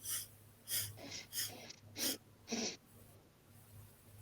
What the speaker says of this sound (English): So we'll inhale for 4 sniffs.